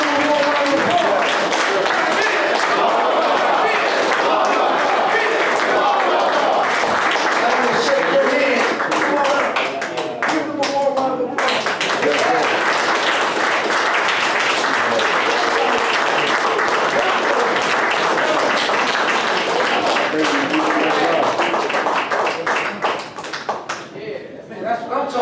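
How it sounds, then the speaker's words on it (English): Warm round of applause from a gathered audience honoring two young people, Brother Holly and Sister Natasha Shirley, dense steady clapping filling the room for about twenty-five seconds with cheers and voices mixed in, thinning near the end. "Let's give them a warm round of applause."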